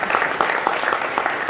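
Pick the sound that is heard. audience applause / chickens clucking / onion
audience applause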